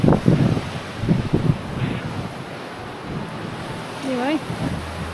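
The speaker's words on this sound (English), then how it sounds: "But oh boy, it's so windy." Strong wind buffets the microphone in low roaring gusts, with a brief faint voice early on and a short tonal whine near the end.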